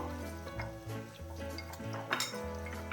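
Chicken pieces being stirred and mixed with salt, chilli powder and masala in a pan, with steady scraping and clinking of a spoon against metal and a light sizzle underneath, close and continuous without speech.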